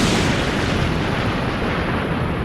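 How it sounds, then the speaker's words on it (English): A continuous deep roaring blast fills the whole stretch, loud and broad like a sustained explosion, with no voices. "Or a volcanic explosion."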